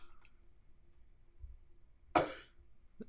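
A single sharp cough breaks a quiet room, followed a moment later by the start of another short burst.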